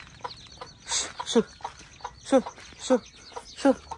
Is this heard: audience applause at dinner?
no